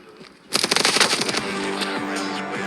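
Rapid machine gun fire in a video game, a dense fast burst of sharp shots that blurs into a sustained rattling roar, loud and close, with no speech over it.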